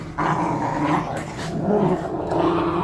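Golden retriever puppies growl steadily and close up as they play-fight in a three-way wrestle, with a few yips mixed into the continuous rumbling.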